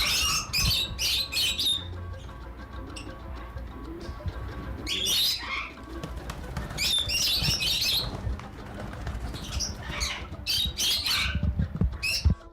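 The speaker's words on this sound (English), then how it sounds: "So Reese is a Goffin cockatoo" Loud, harsh squawks and chirps from a Goffin cockatoo in a bird orphanage in Africa, coming in repeated bursts close to the microphone over steady background bird calls.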